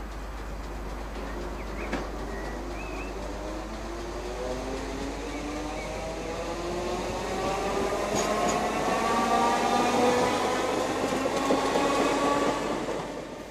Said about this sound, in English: Another of the Class 315s enters Edmonton Green Station